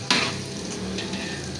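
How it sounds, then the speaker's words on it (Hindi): Prawns fry with garlic and ginger in a pan over high flame, giving a steady close sizzle with stirring scrapes throughout and a sharper burst of crackle right at the start. "प्रॉन्स को लहसुन अदरक में अच्छी तरीके से आपने फ्राई किया"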